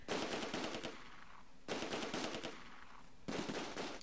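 Machine gun fire sounds in the Close Combat: A Bridge Too Far war game. Three distinct rattling bursts are spaced about a second and a half apart, fairly quiet, with no voices over them.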